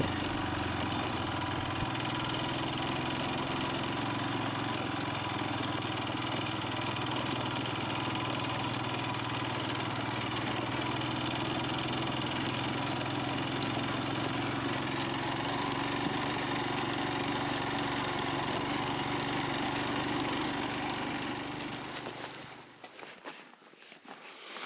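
A Royal Enfield Himalayan 411 motorcycle engine pulls steadily in second gear on an off-road climb, a loud, constant close drone that runs unbroken for about twenty seconds and then cuts away abruptly.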